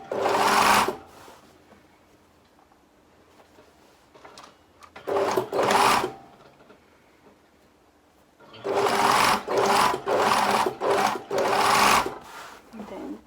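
A sewing machine stitches bias binding onto a garment in loud motor bursts: one short run, a brief second run, then a longer stretch of several quick pulses, with quiet pauses between them.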